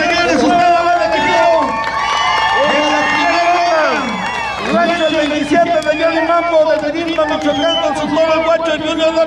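Spectators at a bull riding event in a Santa Fe Mall arena in Duluth, Georgia clap and cheer while an announcer's amplified voice keeps talking over the loud crowd noise and music.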